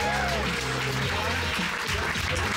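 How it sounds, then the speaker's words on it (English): Cruise ship crowd bursts into loud, dense applause and cheering for a performer, sustained and steady throughout, with voices and music tones mixed in the background. "Make some noise and put your hands together for Mike Brody"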